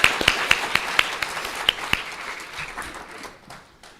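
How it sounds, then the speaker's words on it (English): Applause from a modest crowd at a public service awards ceremony in a hall: quick, evenly spaced claps stand out at first, then thin out and fade within a few seconds. "Let's give another round of applause to Paul."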